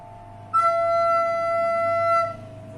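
A recorder holds one steady note, mi, fingered with the upper holes plus two right-hand fingers, starting after a brief pause and sustained clearly for nearly two seconds before fading out.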